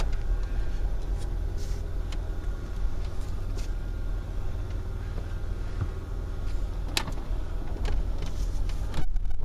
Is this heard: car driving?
yes